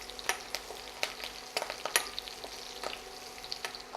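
Curry leaves dropped into hot oil for a yogurt potato curry, crackling in a soft, steady sizzle broken by sharp pops and a few stirring scrapes, fairly quiet and close, with no voices.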